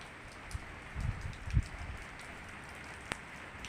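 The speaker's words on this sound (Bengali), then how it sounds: "এই অপেক্ষা করছিলাম কখন একটু বৃষ্টিটা ভিডিও করব" A brief shower falls outdoors around trees, heard as a faint, steady hiss with a few soft low thumps of drops.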